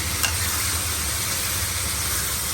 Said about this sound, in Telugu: ఇప్పుడు కార్న్స్ వేసుకుందాం. ఇప్పుడు ఒకసారి కలుపుకుందాం.